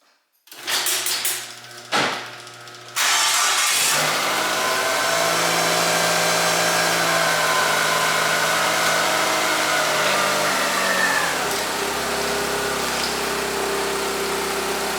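A 2003 Mitsubishi Galant 2.4L 16V four-cylinder, just back together after a timing belt and water pump job, starts with a couple of short bursts and then settles into a steady, close engine drone with shifting tone.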